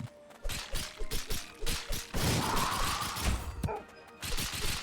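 Enemies fire at the player in the video game Cat Quest II, producing a rapid run of sharp, punchy stylized shots and impact hits. They come in irregular bursts over a busy game soundtrack.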